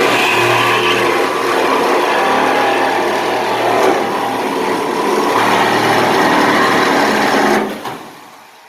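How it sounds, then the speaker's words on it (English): A reciprocating saw cuts through the firewall of a 1967 Chevelle parts car, a loud, close, continuous buzzing rasp that holds steady for about seven seconds before stopping abruptly. "we got a sawzall"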